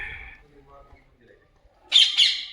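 Parrots nesting in wall cavities at Rewa Fort let out two short, harsh squawks close together, loud and sharp against an otherwise quiet background.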